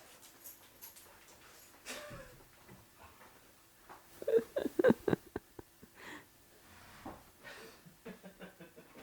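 Dogs indoors whimpering and panting, soft breathy pants and small whines scattered across the stretch, with a burst of quick rhythmic panting in the middle and more toward the end, fairly faint overall.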